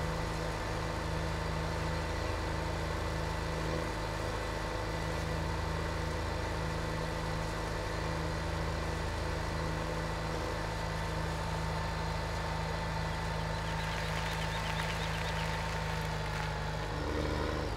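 A tractor engine in Farming Simulator 17 drones steadily at a low, even pitch as the vehicle drives, loud and continuous with no talk.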